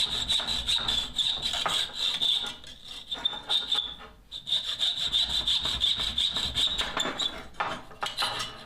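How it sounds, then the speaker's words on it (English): A hacksaw cuts off the excess of a wooden wedge set into a hammer handle, giving steady, close back-and-forth rasping strokes with a brief pause midway and no talk. "So we just cut the excess off with a hacksaw."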